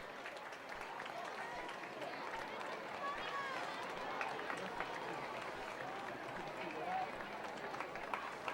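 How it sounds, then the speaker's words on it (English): A crowd at a high school football game gives an ovation with steady applause and cheering from the stands, heard under a commentator's voice throughout. "as the crowd gives an ovation"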